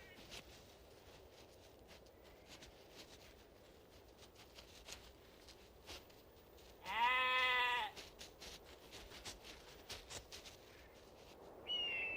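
A single loud, wavering Rocky Mountain goat bleat rings out in the middle of quiet outdoor mountain ambience in Waterton/Glacier National Park, with a shorter call near the end.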